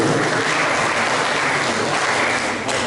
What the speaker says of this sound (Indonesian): Tepuk tangan buat kandidat nomor